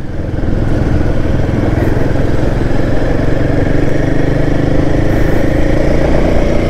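A Royal Enfield Himalayan 450 motorcycle, a 450cc bike on a test drive, runs with a loud, steady engine drone close by, holding an even throb throughout with no pauses.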